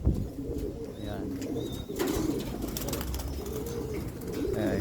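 Breeder pigeons in a loft give soft, repeated coos close at hand, along with a few faint chirps and a low background murmur.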